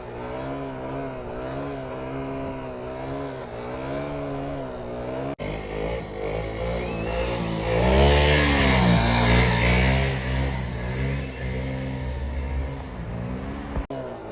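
A motorcycle engine revs hard as the rider pulls a wheelie, rising from a steady idle into a loud, sustained roar that swells near the middle before easing off, close to the microphone with no talking.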